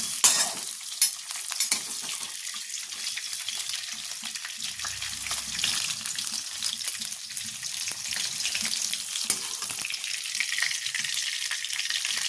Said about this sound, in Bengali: আমি আলুগুলোকেও হালকা করে ভেজে নিচ্ছি